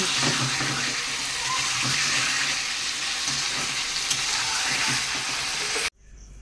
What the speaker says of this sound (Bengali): এই দেখো চিকেনটাকে কষাচ্ছি